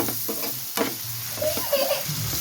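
Masala with tomato sizzles in a pan for a goat blood fry while a spoon stirs it, brief scraping strokes over a steady close frying hiss.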